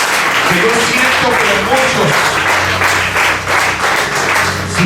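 A church congregation applauds and cheers during a Spanish-language worship service, a dense sustained wash of clapping mixed with voices and a low musical hum underneath, steady for several seconds.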